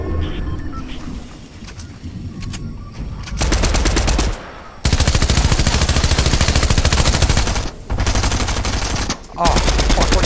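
Sustained automatic gunfire from a Fortnite match, long loud rattling bursts broken by short pauses, with players talking over the shooting.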